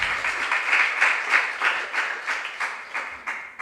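Audience at a junior science and maths quiz applauds contestants, a short burst of clapping in a rhythmic, slightly uneven pulse that fades toward the end.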